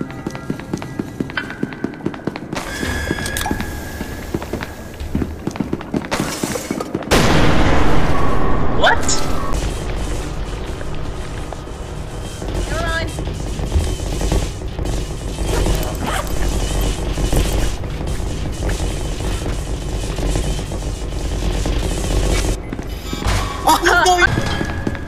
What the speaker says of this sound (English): There's gunshots everywhere.